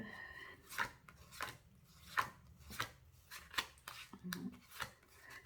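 A deck of tarot cards being cut and handled, several short crisp rustles and slaps spaced about half a second apart, close and fairly quiet with room noise between.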